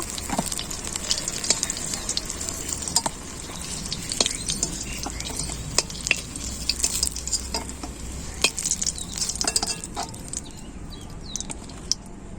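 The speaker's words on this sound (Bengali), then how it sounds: "বাকি বেগুনগুলো ভেজে নেব" Eggplant frying in a pan, a steady close sizzle with intermittent stirring scrapes and utensil clicks throughout, no talk.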